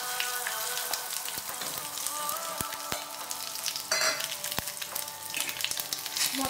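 Whole cardamom, cloves, cinnamon, bay leaf, five-spice mix and cumin sizzle in hot oil, a dense steady crackle broken by sharp metallic taps and stirring scrapes of a utensil against the pan.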